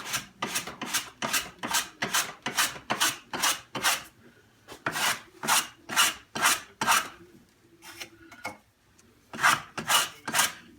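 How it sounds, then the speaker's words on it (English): A hand plane trims the top of a wooden piece clamped in a wood vise, making a run of rhythmic rasping strokes, a pause, then a few more strokes, close and clear with no talk. "I gotta do a little trimming yet with my plane on this"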